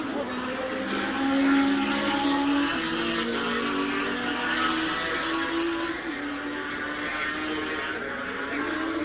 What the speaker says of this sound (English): a bike will compete in this race with a camera actually mounted on the gas tank